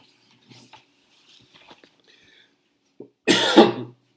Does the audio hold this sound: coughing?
yes